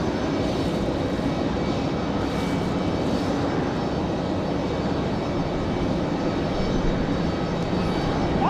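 An airliner arriving from Cleveland at Raleigh-Durham International gives a steady, fairly loud engine roar with a faint whine on top, with no talking.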